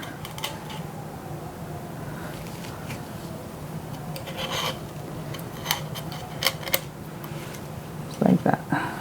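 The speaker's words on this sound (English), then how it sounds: "get back to scrubbing" Scrubbing along the epoxy-coated edges of a matte tumbler gives a steady, close rasping rub throughout, with a few brief louder scrapes and knocks near the end.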